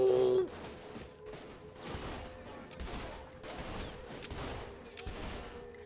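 Repeated bursts of gunfire crack out in irregular volleys in the video game Saints Row: The Third, with a brief tone at the start and busy background noise.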